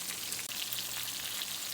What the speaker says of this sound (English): So we are almost done frying up our country fried steak.